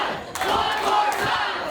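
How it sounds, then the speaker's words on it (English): A wrestling crowd at a War Games match cheers and yells in a loud, sustained roar with sharper shouts rising out of the din. "This crowd begging for violence."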